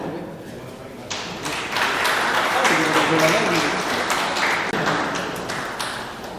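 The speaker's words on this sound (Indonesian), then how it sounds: "Kita berikan tepuk tangan." An audience breaks into brisk clapping for the head of the Nusantara Capital City (IKN) Authority at a formal event with the Jakarta provincial government, the applause swelling after a second and continuing under a speaking voice.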